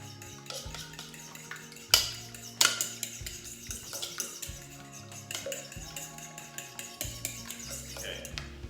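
Omelet mixture with a little heavy whipping cream stirred in a bowl, soft repeated scraping and clinking of utensil against dish, with a couple of sharper knocks early on, close and fairly quiet.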